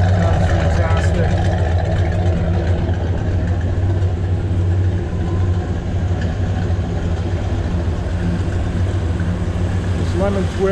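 A 1970 Dodge Super Bee muscle car engine idles with a steady, deep low rumble and a rough exhaust burble that runs continuously, fairly close and loud, with faint voices in the background.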